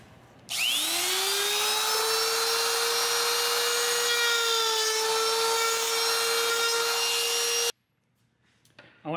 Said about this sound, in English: I want to give you a close-up of the way the trim bit cuts.